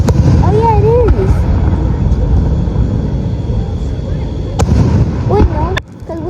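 Fourth of July fireworks boom and crackle loudly, with sharp bursts near the start and end and whistling rockets rising between them, while people talk throughout.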